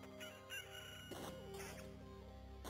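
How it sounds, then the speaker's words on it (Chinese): A rooster crows in the video game Nioh, one drawn-out cock-a-doodle-doo with clucking fowl calls. It plays fairly quietly over steady game ambience and music, with no talk. "有没有听到鸡叫声？"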